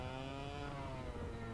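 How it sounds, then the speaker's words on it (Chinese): An X30 engine droning at a steady pitch, a faint, even mechanical hum held for under two seconds with no other sounds. "你听这引擎声音就是X30"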